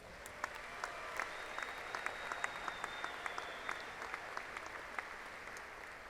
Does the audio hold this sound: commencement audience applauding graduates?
yes